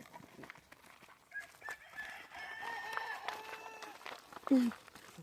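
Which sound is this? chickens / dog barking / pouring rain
chickens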